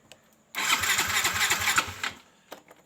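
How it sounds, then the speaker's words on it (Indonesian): Electric starter cranking the engine of a Yamaha Fino motorcycle that has an ignition coil fault, a loud close whirring crank lasting about one and a half seconds after a quiet start, then stopping, followed by a few faint clicks. "atau elektrik starter dan coba kita hidupkan"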